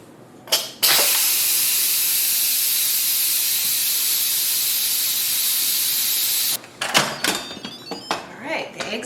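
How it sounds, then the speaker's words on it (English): Instant Pot steam vent released after cooking quail eggs, giving a loud steady hiss that runs for about six seconds after a click, then stops, followed by small clatters and knocks. "Now, I'm going to release the vent."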